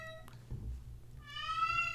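A cat meows at moderate distance, first a short call and then a longer drawn-out meow rising and falling over a low background hum, fairly faint.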